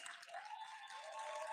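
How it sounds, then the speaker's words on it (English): Audience applause for the sponsor V Pharmaceuticals at a Tri State Black Pride event, a steady wash of clapping that holds throughout at moderate loudness, with no single claps standing out. "Can we give a round of applause for V,"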